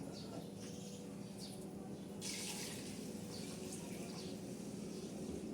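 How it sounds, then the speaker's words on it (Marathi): Steady watery rush with a brief brighter splash partway through as hot water is poured into a pot of biryani, fairly quiet and continuous. "हे आता आपण गरम पाणी सोडलेलं आहे बिर्याणीमध्ये"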